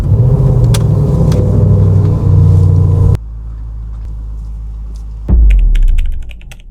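Range Rover SVR engine rumbling loudly at close range, a deep steady idle that drops quieter partway through, then swells again with a revving surge before fading.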